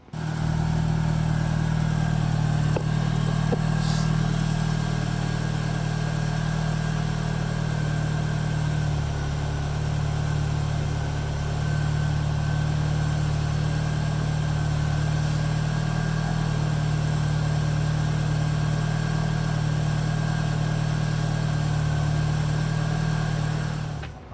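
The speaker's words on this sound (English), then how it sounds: "now that this is done, let's start it up and listen for leaks" A DSM car with a freshly installed FP exhaust manifold idles steadily at close range, its low engine hum holding an even, unchanging tone for over twenty seconds with no one talking.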